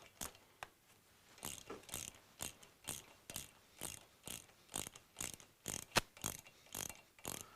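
A ratchet turns camshaft cap bolts on a Suzuki GS1000 motorcycle engine, a steady series of short, crisp clicking strokes, close and fairly quiet, repeating roughly every half second.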